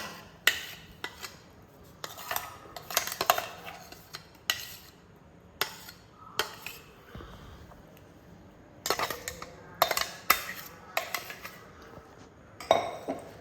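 Ground semolina batter is scraped from a vessel into a bowl, making a series of sharp metallic clinks and taps, scrapes and brief rubbing sounds with quiet pauses between them.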